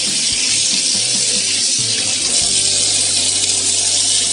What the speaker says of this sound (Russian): он не брызгает так сильно, как брызгал старый кран